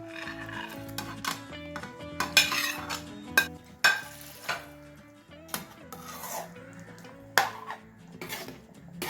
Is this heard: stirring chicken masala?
yes